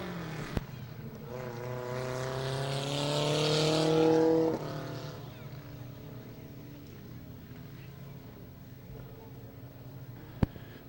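Race cars on an oval speedway finishing the fourth and final heat race, engines roaring loud and building to a peak around mid-clip before dropping off as they pass, with a track announcer talking over them.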